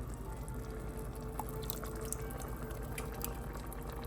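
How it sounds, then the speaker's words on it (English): Canned tomato sauce pouring into a pot for lasagna, a continuous thick liquid glug and splash with a few small drips, fairly quiet and close. "We're gonna do 4 cans of tomato sauce."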